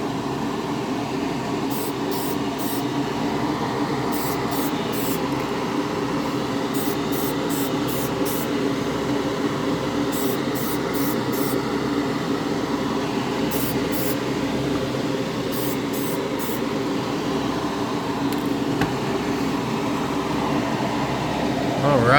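Short repeated bursts of an aerosol can spraying Testors Glosscote lacquer clearcoat over Tamiya TS paint inside a paint booth, hissing in quick clusters over a constant loud booth fan roar.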